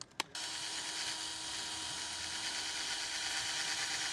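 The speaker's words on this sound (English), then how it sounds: "All I've got is my cheap drill set and these stones" A cheap handheld drill spinning grinding stones against metal on a Honda Integra DC2 brake job gives a steady, continuous high-pitched whine and grind, close and fairly loud, after a couple of brief starts at the very beginning.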